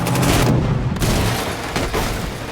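Loud, dense film gunfire as John shoots down Vigo's henchmen one by one, a continuous roar of bursts and booms filling the whole moment.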